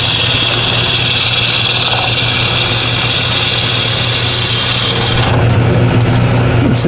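A sharp gouge cuts a wood spindle turning on a lathe, slowly, giving a continuous low motor hum with a steady rubbing, scraping hiss of the tool on the wood, loud and close, with a brief change near the end.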